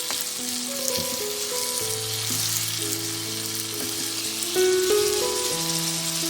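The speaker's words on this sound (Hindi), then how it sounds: "अभी हम जो टमाटर लिए थे उनको हम उसी ऑयल में डाल देंगे।" Tomatoes sizzle and crackle loudly in hot oil for chicken karahi while a soft melodic tune plays in the background, the sizzling swelling near the end.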